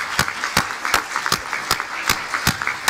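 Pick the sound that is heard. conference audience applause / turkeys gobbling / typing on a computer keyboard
conference audience applause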